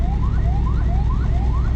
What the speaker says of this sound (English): it'd probably be a good idea if you turned off your siren